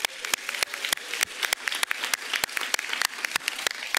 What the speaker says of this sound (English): give a round of applause to your families that are here today.